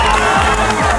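A crowd cheering and shouting loudly, with excited voices and whoops in one close, dense burst.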